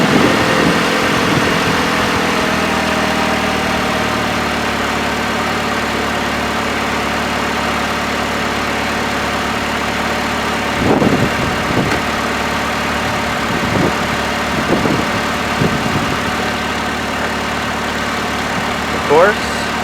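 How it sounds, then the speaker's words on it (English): A 2008 Chevrolet Malibu LT engine idles with a steady low hum throughout, while a few brief clanks and handling noises stand out near the end. "turn on the engine to get any pressure out"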